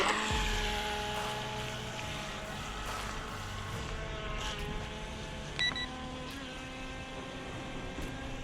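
The small electric motor of an Eachine EBT02 RC boat whines on water with a sustained high buzzing tone that shifts in pitch as the throttle is rocked, fairly close and steady.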